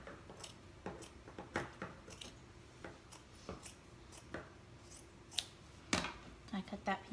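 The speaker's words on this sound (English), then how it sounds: "I'm going to cut the bottom band off of it." Scissors snip through the bottom band of a cotton t-shirt in a string of quiet, irregular crisp cuts, close up, with some sharper snips near the end.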